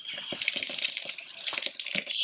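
Water gushing from an indoor tap while a sprinkler nozzle is cleaned, a steady close splashing rush with small clinks and drips in the stream, no voices.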